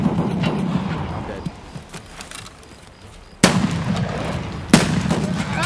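Two sharp gunshots ring out in Escape From Tarkov, a pair of loud isolated cracks about a second apart over a low rumbling game ambience.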